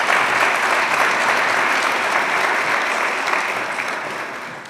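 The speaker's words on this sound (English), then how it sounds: "Please put your hands together for the oil industry." Audience at the West Kern Petroleum Summit applauding the oil industry, a loud sustained burst of many hands clapping that gradually fades toward the end.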